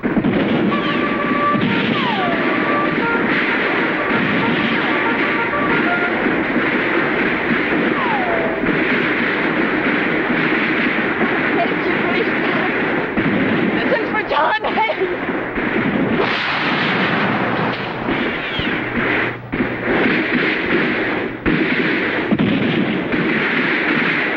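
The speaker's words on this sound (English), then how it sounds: "I thought you silenced that cannon." Cannon blasts from a battle scene in a vintage children's space-adventure radio drama. Several heavy booming shots land through the middle stretch over a steady roar of battle noise, with voices speaking around them.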